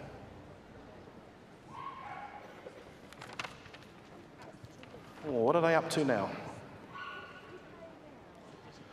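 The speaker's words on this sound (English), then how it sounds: "These are very angry dogs in the cages." Dogs in cages at a Crufts 2013 dog training display bark and yip in short bursts, fairly faint over a noisy arena, with a louder volley midway and someone talking.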